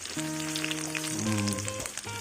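Shallots and garlic sizzle and fry steadily in a pan, a soft crackling hiss under faint background music.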